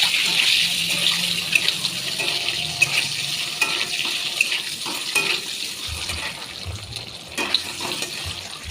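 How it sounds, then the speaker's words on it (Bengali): Eggs frying in a wok with turmeric and a little salt, a steady bright sizzle with occasional stirring scrapes and clicks, continuous and close. "হলুদ, সামান্য পরিমাণে লবণ দিয়ে প্রথমে ডিমগুলিকে ভেজে নেবো ভালো করে।"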